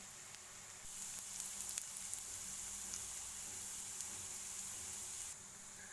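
Garlic, green chili and shallots sizzle in a pan for a moru curry. The frying hiss is steady and quiet with a few faint pops, heard alone.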